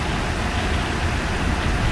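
Heavy rain and gusting wind batter a Bear camper during a storm with tornado warnings nearby, a steady dense roar of broadband noise with no pauses, loud and close throughout.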